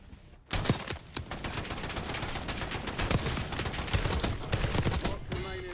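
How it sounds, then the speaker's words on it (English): Rapid, overlapping gunfire bursts ring out in the video game Warzone, with a shotgun blasting amid a dense volley of close shots that continues for several seconds. "try to shotgun him"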